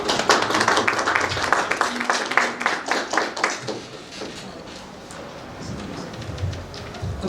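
Audience at a streamed academic talk applauds a professor, crisp hand clapping strongest at first, then thinning and fading under murmured talk.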